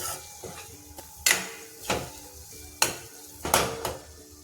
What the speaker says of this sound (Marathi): मसाल्यांनाही चांगलं परतू द्यायचं आहे.